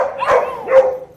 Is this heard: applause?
no